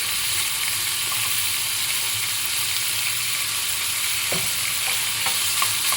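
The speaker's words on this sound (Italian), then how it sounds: "Facciamo saltare, qui c'è una taccola, velocemente," Snow peas tossed and sautéed in a pan, a steady close sizzle of frying with faint stirring clicks and scrapes throughout, no voices.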